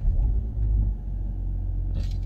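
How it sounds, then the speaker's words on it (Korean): A Genesis GV80 SUV starting up, heard as a low, muffled engine rumble settling into a smooth, quiet idle, close by and well insulated, with a faint brief rustle near the end. "제가 한번 시동 걸어보겠습니다."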